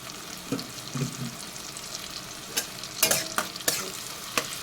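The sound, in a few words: onion and ginger paste being stirred and fried in a pan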